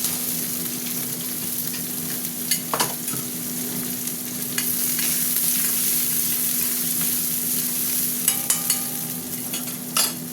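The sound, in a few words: onions frying in a pan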